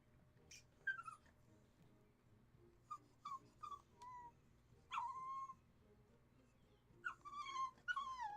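Puppies whimper and yip in short high-pitched bursts, scattered and fairly faint, with gaps of quiet between the squeaky cries.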